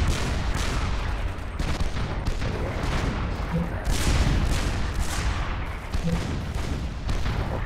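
Continuous barrage of artillery fire from fortified artillery in the real-time strategy video game Supreme Commander, a dense rumbling stream of repeated shots and booms throughout, with faint speech underneath.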